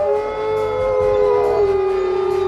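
A wolfdog's drawn-out howl from the 1995 animated film Balto, one long loud sustained wail that slowly falls in pitch, heard alone.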